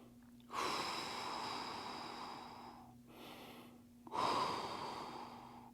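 Slow, deep breathing during a hip mobility stretch on a floor: two long, airy exhales separated by a softer inhale, close to the mic over a faint steady hum, with no talk.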